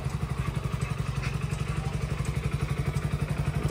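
A village tractor engine runs with a steady, rapid chugging thump, moderately loud and continuous, with no talk.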